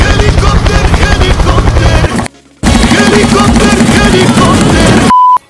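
A loud, rapid-firing motorcycle racing exhaust revs and drones steadily with a choppy, pulsing 'helikopter darat' rattle, cuts out briefly, returns, then ends with a short beep.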